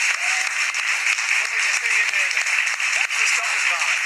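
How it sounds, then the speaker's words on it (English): Continuous applause from a TV studio audience fills the space, a dense steady clapping that holds at an even loudness throughout. "That's the longest applause we've ever had."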